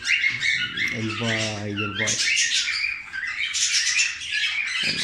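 Canaries chirp and squawk in quick, busy bursts, with a short run of rapid repeated notes in the middle, fairly close.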